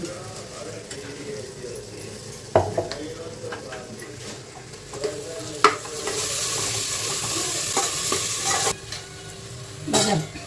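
A ginger, garlic and coriander paste fries in masala in a home kitchen, giving a steady sizzle with intermittent clinks and scrapes of stirring, while a voice talks over it.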